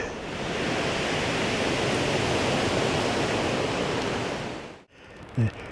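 Strong wind roars across an exposed storm campsite, a dense, loud rushing buffeting the microphone that suddenly drops away near the end, followed by a faint knock.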